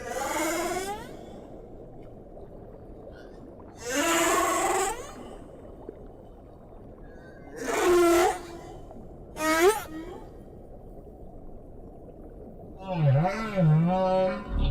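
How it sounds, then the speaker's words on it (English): Humpback whale song: long, moaning and swooping calls arriving in separate phrases with quiet gaps, over a constant low underwater rumble. "The male humpback may sing for hours or even days."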